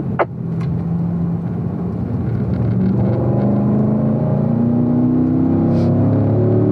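Corvette race car on the Spring Mountain track pulling hard in fourth gear, a loud steady engine roar with rising pitch as it accelerates, heard close from inside.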